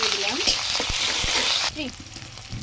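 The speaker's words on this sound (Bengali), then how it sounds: "তার জন্য আমি কড়াইতে তেল দিয়ে দিয়েছি। এবার পেঁয়াজ আর কাঁচামরিচ কুচি" Chopped onion and green chili hit hot oil in a wok with a loud, crackling sizzle, punctuated by a few stirring knocks, then easing to a softer fry while a voice speaks over it.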